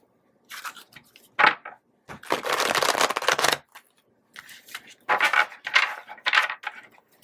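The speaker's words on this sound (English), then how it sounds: "I have to do an extra shuffle or two for you." A tarot card deck is shuffled in several bursts of riffling and flicking, close and fairly loud, with short pauses between the shuffles.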